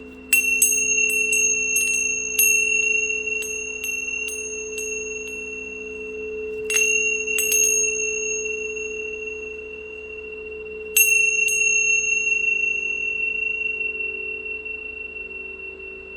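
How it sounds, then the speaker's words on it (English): Bright bell strikes ring out in quick clusters, their clear tones sustaining and slowly fading over a low steady hum. "Next, we're going to move into our sound healing bells."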